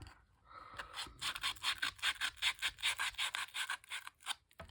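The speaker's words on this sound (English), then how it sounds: "I want to rough this up a little bit. I'm going to use this sandpaper." Sandpaper rubbed back and forth across a paper journal card in a shabby chic, Paris-themed craft project, a steady run of about a dozen quick rasping strokes, close and fairly loud, with no talking.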